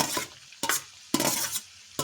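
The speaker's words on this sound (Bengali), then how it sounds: "কপিটা খুব ভালোভাবে মিশিয়ে নেব" Fried cauliflower being stirred into a curry in a pan: four sharp scraping strokes of a spoon against the pan, evenly spaced over sizzling, each followed by a softer hiss, close and alone.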